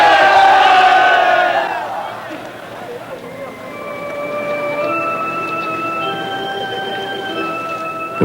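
A stadium crowd of Dragons fans roars and applauds the Lions' victory, loud at first and then fading after about two seconds into a quieter murmur with faint steady tones.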